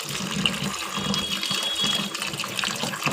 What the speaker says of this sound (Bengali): ভালো করে আলুটা ধুয়ে নিচ্ছি